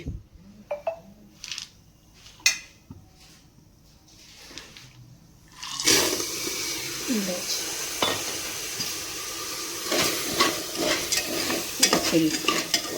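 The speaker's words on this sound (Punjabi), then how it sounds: "ਤੇ ਕੁੱਕਰ ਆਪਣਾ ਪਹਿਲਾਂ ਗਰਮ ਹੋ ਗਿਆ ਸੀ ਤੇ ਨਮਕ ਵੀ ਆਪਣਾ ਗਰਮ ਹੋ ਗਿਆ ਜੀ ਤੇ ਹੁਣ ਪਾ ਦਿੰਨੇ ਆ ਜੀ ਆਪਾਂ ਛੋਲੇ" Black chickpeas are tipped into hot salt in a pressure cooker, starting with scattered clinks and rattles, then a loud sustained sizzling, gritty rustle as they are stirred through the salt.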